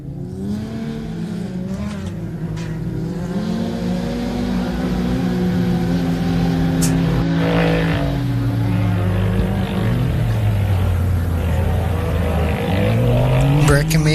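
A rally race car at the ARB Hillston Gap440 starts its final lap, its engine droning loud and continuous for the whole stretch, pitch rising and falling as it changes gear and speed while it passes.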